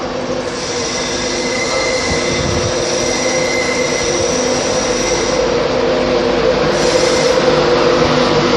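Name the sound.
Class 91 electric train passing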